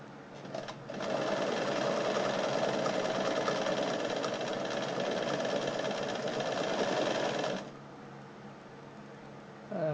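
A Bernina 817 sewing machine stitching a blind hem, a fast steady mechanical whirring that runs for several seconds at close range, then stops abruptly.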